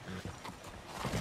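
Horse hooves clip-clop in the Red Dead Redemption 2 video game, a brief patter of quick, muffled steps under a busy game background.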